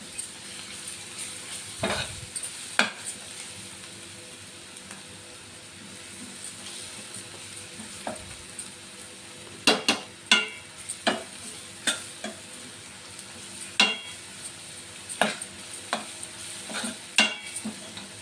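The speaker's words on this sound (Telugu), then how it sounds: "అల్లం వెల్లుల్లి పేస్ట్ కొంచెం పచ్చివాసన పోయే వరకు బాగా వేగనివ్వాలండి." Ginger garlic paste sizzles steadily in a pan with turmeric, while a utensil stirs it with sharp taps and scrapes, sparse at first and then in quick repeated bursts near the end.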